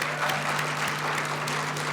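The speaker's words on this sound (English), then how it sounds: "you must now help give these people a warm round of an applause" Steady applause from a graduation ceremony audience fills the space, a dense, continuous patter of many hands clapping with a low hum running underneath.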